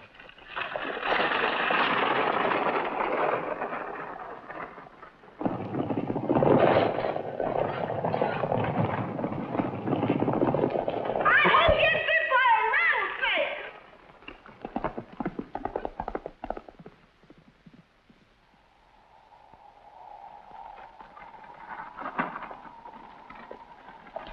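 Hooves clip-clop rapidly and loudly for several seconds, then fade, leaving faint rustling and a quieter stretch.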